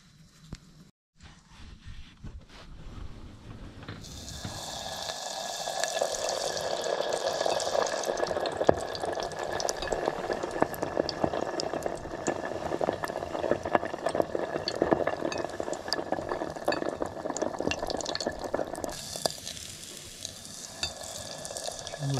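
Oil sizzles steadily in a pan while something fries in a remote Alaska cabin, starting quietly and then swelling into a loud, continuous crackle that holds to the end.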